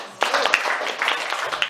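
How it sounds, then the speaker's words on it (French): An audience breaks into dense, steady applause, many hands clapping together at close range for nearly two seconds before it begins to thin out. "On peut applaudir"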